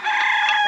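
Chicken crowing close and loud at a rural village home, a single short harmonic call that starts sharply and holds steady, with no talk.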